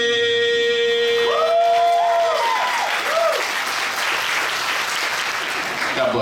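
Crowd applause and cheering at an outdoor running event just after the national anthem, steady clapping with whoops and a few rising whistles up front.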